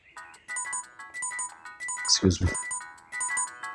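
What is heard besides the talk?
phone ringtone ringing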